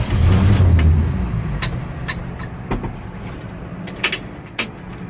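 A 1950 Chevrolet 3100 pickup engine idles and gets a brief blip of throttle, a low rumbling rev that swells early and then settles back to a rough idle, with a few clicks and knocks close by.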